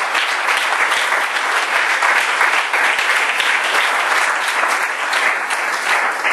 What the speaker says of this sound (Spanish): Ofrenda de aplausos al Señor.